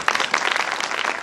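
A congregation at a church sermon claps loudly for the Pakistan army, a brief burst of dense, crisp hand-clapping heard close and alone.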